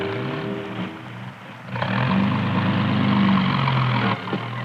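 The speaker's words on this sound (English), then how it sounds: "That engine noise broke the spell." Out in the Australian outback, a vehicle engine rumbles in partway through, settling into a loud, steady drone over open-air background noise before easing slightly near the end.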